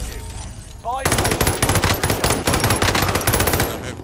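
Rapid automatic gunfire in a video game during a fire sale, with sustained loud bursts of machine-gun shots starting after a brief quiet moment and continuing densely throughout.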